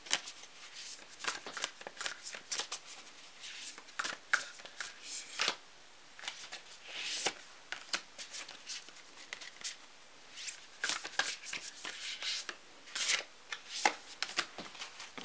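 Nature's Whispers oracle cards shuffled by hand, a steady run of soft papery riffles and flicks at close range with brief pauses between bursts, no talking.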